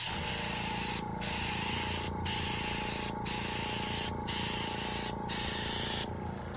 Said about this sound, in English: you can still really get on a fair amount of material with this airbrush once you start opening it up